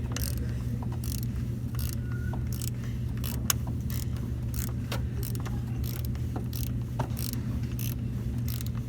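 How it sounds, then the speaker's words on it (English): Socket wrench loosening a car's oil filter during an oil change: steady mechanical clicking and ratcheting over a low rumble, with sharp metallic ticks scattered throughout, close by and with no talking. "Now use a socket to loosen it."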